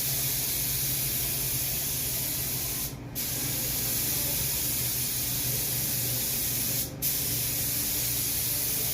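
Spray painting a fiberglass cowl hood on the passenger side during a third coat: a loud, steady hiss from the spray gun that runs the whole time, broken by two brief pauses in the spray.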